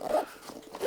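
A zipper on an everyday-carry bag is pulled in one quick, close stroke lasting under a second, with no talking.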